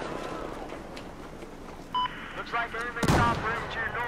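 Gunfire and a grenade blast in Battlefield 4 multiplayer on Siege of Shanghai: steady battle noise under scattered game beeps, then a loud, heavy explosion about three seconds in followed by rumbling debris.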